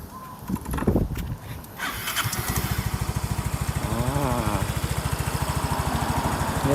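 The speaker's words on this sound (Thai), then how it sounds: "เดี๋ยวมาดูเสียงเครื่องกันนะครับ" A 2017 Yamaha Qbix 125cc scooter engine cranks, catches and settles into a steady, even idle, with a rapid regular putter close by.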